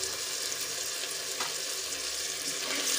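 Potatoes and peas sauté in a pressure cooker for aloo matar pulao, a continuous even hiss of frying with faint stirring, close and steady throughout.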